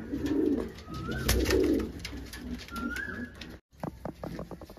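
Madras pigeons cooing at a home loft in Kolkata, with low throaty coos repeating in a steady rhythm close by, mixed with brief whistle-like notes and a short gap near the end.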